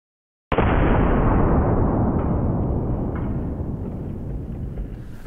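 A GM6 Lynx .50 BMG rifle fires once into a cinder block outdoors: a single sudden, very loud blast followed by a long rumbling decay echoing away over several seconds.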